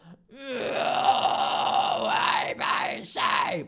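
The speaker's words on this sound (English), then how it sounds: "There is an upper chest fry that sounds a little like this." A raspy, distorted upper chest fry metal scream held for a few seconds, then broken into two shorter gritty bursts, loud and close.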